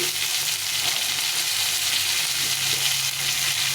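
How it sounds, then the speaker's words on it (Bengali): Pointed gourd and mixed vegetables with green chili fry in a pan for a Bengali mixed-vegetable ghonto, giving a steady, close sizzle that holds evenly throughout with no talking. "একটু নেড়ে নেবো কাঁচা লঙ্কা দিয়ে এখন দিয়ে দেবো বাকি সবজিগুলো এক এক করে দিয়ে দেবো প্রথমে দিলাম পটল"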